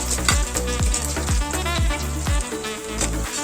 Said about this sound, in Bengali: এই দেখুন লাল লাল করে ভেজে নিচ্ছি।